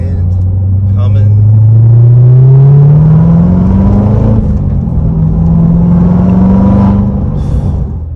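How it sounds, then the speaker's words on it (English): A manual car in track mode revs loudly and close by, its engine tone rising and falling through throttle blips during rev-matched downshifts, with a continuous heavy rumble underneath. "I could do those rev matches all day. It sounds so good when it blips that throttle."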